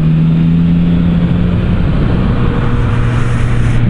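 Engine of a 2024 Yamaha MT-09 SP motorcycle fitted with an Akrapovic exhaust, a loud steady close-up drone with a small rise in pitch toward the end, without speech.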